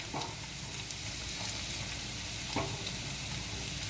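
Carrots and cabbage sauté in a pan with a steady, moderate sizzle, broken by a few sharp scraping clicks of stirring, and no voices.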